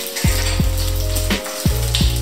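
Butter sizzles loudly in a hot pan alongside a steak, a dense continuous crackle punctuated by a few sharper pops and spits, close and steady.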